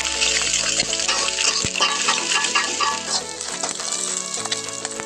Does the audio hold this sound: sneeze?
no